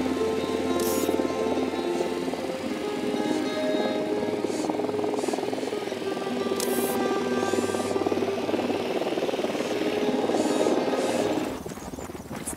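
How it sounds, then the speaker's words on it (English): A drone hovers in the video game Ghost Recon Wildlands, its steady whirring buzz running continuously and fairly loud before easing near the end, with faint game sounds layered in. "Drone is airborne."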